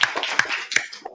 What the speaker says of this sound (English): Big round of applause from both countries